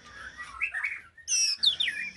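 A white-rumped shama (murai batu) songbird sings close by in a few quick, bright chirps and whistled phrases with short gaps between them, loud and clear with no voices.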